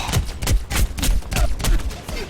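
Enemy gunfire in Overwatch: rapid repeated shots in rhythmic clusters of sharp cracks and low thuds, fairly loud and close throughout the short burst.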